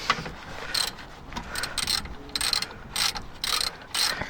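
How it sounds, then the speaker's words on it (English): A hand ratchet tightens the brake caliper carrier on a 2014 Nissan Juke, giving close, crisp bursts of clicking in repeated strokes with short pauses between them. "Just fastening the caliper carrier"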